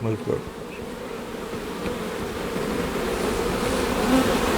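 A dense, steady buzz of many honeybees swarming close by, droning continuously and growing slightly louder over time.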